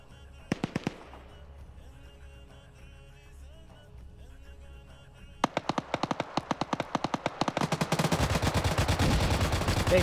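Heavy machine gun fire hits a vehicle hull in a military video game, starting with a short burst, then a long rapid run of loud, evenly spaced shots that thickens into a continuous roar.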